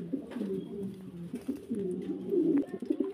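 Andalusian pigeons coo in low, rolling, continuous murmurs at close range, moderately quiet, with no talk.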